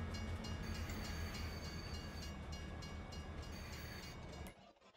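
A train in Farming Simulator 22 rumbles steadily along the rails with a continuous wheel-and-carriage drone and faint high tones, fading out sharply near the end.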